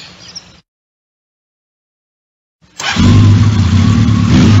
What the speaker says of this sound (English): The motorcycle I'm sitting on is a very special one.